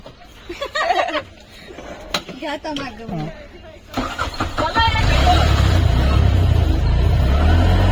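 An auto rickshaw engine on a farm cranks and starts, then settles into a loud steady idle rumble close by, after laughter and chatter among young men.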